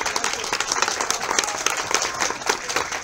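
An audience at a public event in Ecatepec de Morelos gives a loud round of applause, dense continuous clapping from many people, close and steady for the whole moment.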